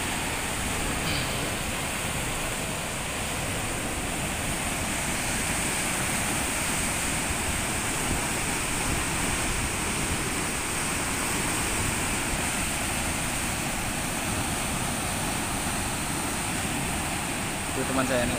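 Loud, steady rushing of water at the Ranau lake dam in Banding Agung, a continuous broadband roar that stays constant throughout with no pauses.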